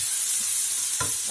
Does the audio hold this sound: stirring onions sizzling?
yes